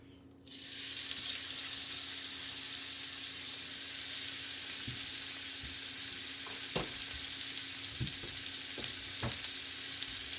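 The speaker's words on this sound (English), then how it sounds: "I'm gonna hear a wicked sizzle right now" A steady, loud sizzle of hanger steak frying in a hot oiled pan fills the clip, with a few soft clicks and taps of a utensil against the pan.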